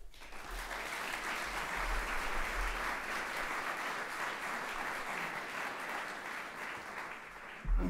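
An audience applauds to welcome a speaker at an evening campus event, a steady, even wash of clapping that holds for several seconds before a brief bump at the end, with no talk over it.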